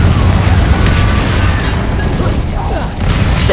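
A Confringo spell explosion in Hogwarts Legacy booms loudly and continuously, a dense rumbling blast filling the whole clip with little pause.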